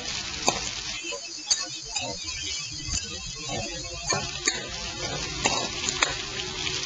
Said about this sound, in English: let's now put the beef back into the wok. And of course, mix it very well.